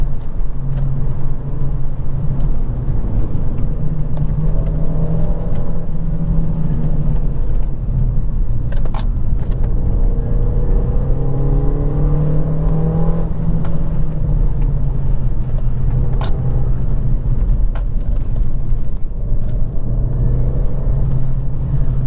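A Renault Mégane 2 RS with a 225-horsepower engine drives a mountain road, its steady loud engine drone rising and falling through gear changes, with occasional road and wind noise throughout.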